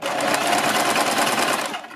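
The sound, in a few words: sewing machine stitching a thread neck strip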